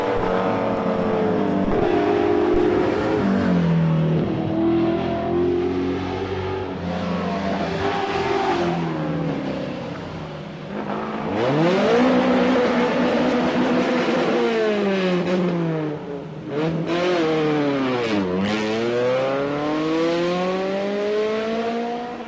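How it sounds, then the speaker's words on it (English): A rally car labours up a hill on a Wairoa special stage, its engine revving hard and wavering as the wheels spin, rising and falling in long sweeps, loud and close with no talk. "Awful lot of wheel spin as he heads up the hill"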